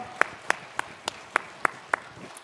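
Clapping in a church congregation comes as a series of about seven sharp, evenly spaced claps in a steady rhythm over a quiet room, fairly close and distinct.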